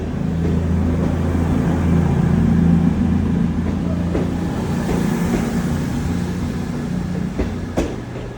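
A train rolls past on the rail line near the end of the Eryri (Snowdonia) circular route, its loud, steady rumble and low drone holding throughout with faint clatter and a brief voice near the end.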